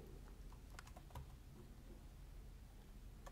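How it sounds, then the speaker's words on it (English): Keys clatter on a computer keyboard in short uneven bursts, close and fairly quiet, with gaps between the strokes and no talking. "I'm not the fastest typer out there"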